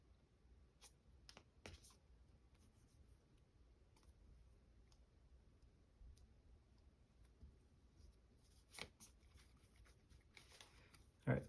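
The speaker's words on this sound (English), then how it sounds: "All right, I'm going to shuffle these two back." Marvel Champions playing cards are shuffled and handled at a tabletop game, with soft riffles and sharp snaps scattered irregularly through a quiet room, plus a louder clack at the end.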